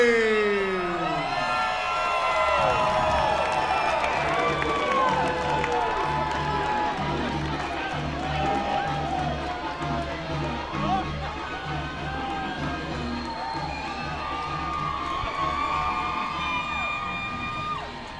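Crowd at a boxing event cheering and whooping for boxer Louis Lopez of Corona, California, a loud sustained roar with yells, under a speaking voice throughout.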